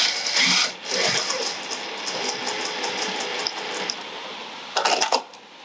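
Sewing machine stitching a fabric clutch bag, a continuous close mechanical whir with rapid ticking needle strokes, briefly pausing and ending with a louder burst, no speech.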